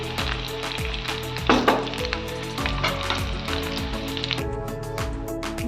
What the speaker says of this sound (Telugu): చూడండి చేపల ఫ్రై రెడీ అయిపోయింది